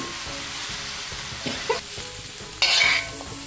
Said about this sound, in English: Just mix it properly so that all the pieces are coated with the masala really well.